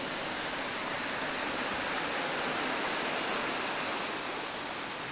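A jungle waterfall pours in a dense, steady roar of rushing water, loud and unbroken from start to finish with no other sounds.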